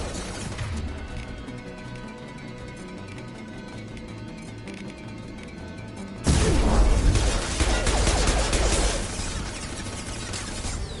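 Gunfire in the sci-fi shooter game Mass Effect 2: a steady background of rapid distant shots, then a louder, denser burst of crashing impacts and booms in the second half.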